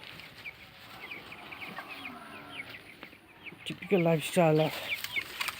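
Chickens in a rural Nepali farmyard clucking in short, rhythmic bursts that grow louder and closer near the end, over quiet outdoor background noise with a voice speaking briefly.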